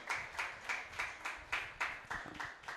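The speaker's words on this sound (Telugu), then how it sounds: "వారి కోసం చప్పట్లు కొడదాం ఒకసారి." A church congregation at a Sunday service claps for baptism candidates, a steady round of moderate applause with rhythmic bursts roughly every third of a second, heard at a distance in a reverberant hall.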